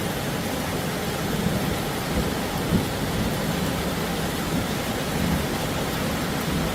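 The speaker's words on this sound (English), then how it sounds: "There's 4 or 5 storms, lightning all around." Rumbling thunder from several surrounding thunderstorms with lightning, a dense continuous low roar blended with heavy rain-like hiss and a few swells in loudness, with no voices.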